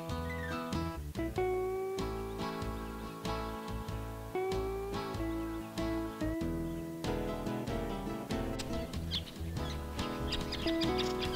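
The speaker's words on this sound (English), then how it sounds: "we are privileged to see a family of mulga parrots come down to drink" A family of mulga parrots comes down to drink in the morning, filling the air with a busy stream of overlapping chirps, whistles and short calls, fairly close and continuous.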